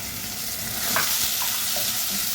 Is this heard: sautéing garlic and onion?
yes